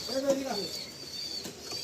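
A male Kalanka pigeon gives a short, low coo near the start, then quiet loft ambience follows.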